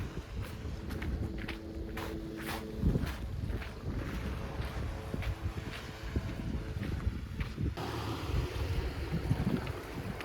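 Surf washes steadily along Miyazato beach on Kuroshima, Okinawa, a coral-rock shore, blended with gusting wind noise and a few crunching steps, with no voices.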